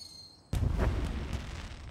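Fireworks burst over a foggy railway at night, opening with a sudden loud boom that fades into a long rumbling, crackling roar.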